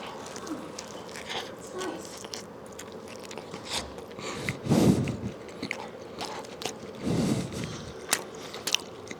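Someone bites and chews a reheated burger up close, with soft crunchy bites and squishy chewing that swell into a couple of louder mouthfuls, with no talking.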